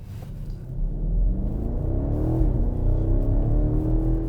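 A 2020 BMW X7 M50i accelerating, its deep engine rumble swelling steadily with a rising pitch sweep as the large SUV gathers speed, heard close and continuous without any talk.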